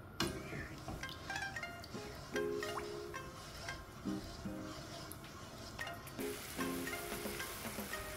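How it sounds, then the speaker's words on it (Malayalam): Lemon juice, water and sugar syrup bubbling steadily in a pan on the stove, a soft continuous boil with light clinks, under quiet background music. "ഇനി നമുക്കിത് തിളപ്പിച്ചെടുക്കാം പഞ്ചസാര നന്നായി അലിഞ്ഞ് കിട്ടുന്നത് വരെ ഇത് തിളപ്പിച്ചെടുക്കാം"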